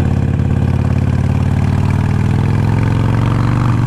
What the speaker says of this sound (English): I don't think it's letting the engine rev down as quickly